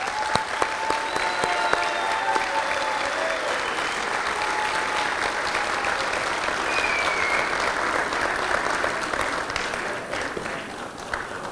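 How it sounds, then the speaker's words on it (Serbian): Audience applause at a political rally for a list presentation in Prijepolje: dense, sustained clapping from a large crowd, close and loud, holding steady throughout and thinning slightly at the end. "Ja vam aplauz za našu Sabiru, molim vas."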